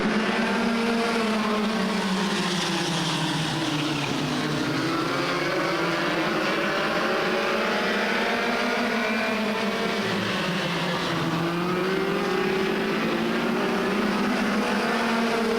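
Ford Focus Midget race cars rolling onto the track at Stockton 99 Speedway, several engines droning together with pitch swelling and falling as they pass, moderately distant with a constant roar.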